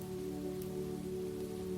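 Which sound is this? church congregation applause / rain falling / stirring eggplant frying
rain falling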